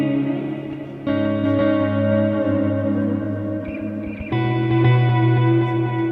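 A Strymon delay pedal's emulated moving tape heads produce sustained, shimmering tones whose repeats overlap into shifting interference patterns, with a denser, louder layer swelling in near the end.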